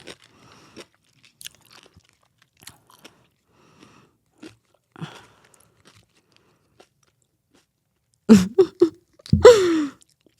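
Crunchy bites into a pickle in a prison-style kitchen, two loud close-up crunches near the end after a stretch of faint small clicks and near silence.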